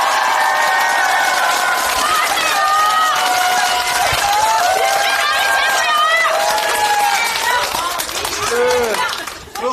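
A big crowd at a Democratic Party election rally with party leader Lee Jae-myung, cheering, whooping and clapping loudly and continuously, with shouted voices and whistles over a dense roar that stays full throughout.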